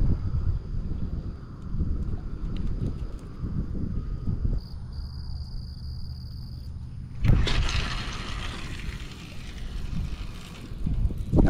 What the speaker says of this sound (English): Already starting to feel the wind.